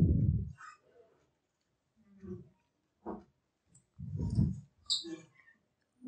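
A computer mouse clicks a few times while a photo is edited in Photoshop, giving sparse, sharp, close clicks separated by silence.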